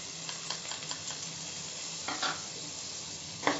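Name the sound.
beaten yogurt added to frying garlic paste and chilli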